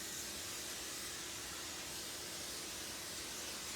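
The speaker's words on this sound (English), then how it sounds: "go over here and spray the pans" A continuous spray of cooking spray onto baking pans hisses steadily throughout, fairly quiet and unbroken.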